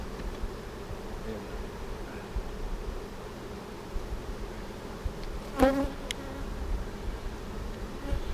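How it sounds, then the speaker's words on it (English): A steady, dense buzz of many honey bees around a hive, continuous and close, with a brief rustle partway through. "Do I need to knock them bees off?"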